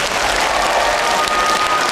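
A charity concert crowd claps heartily, many hands close together in a thick, sustained burst of applause that holds steady throughout.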